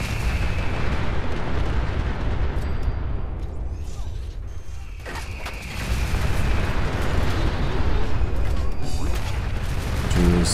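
Sustained gunfire and explosive booms from the Fallout 4 video game, loud and continuous throughout with a brief lull midway, occasional talk faintly underneath.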